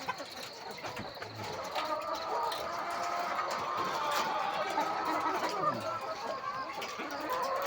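Chickens cluck and murmur steadily throughout, a busy flock close by with scattered higher calls over a constant farmyard din.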